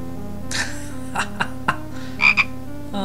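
A frog in the Simon the Sorcerer adventure game gives a short series of loud, close croaks and gurgling calls, several distinct bursts in quick succession over a low background hum.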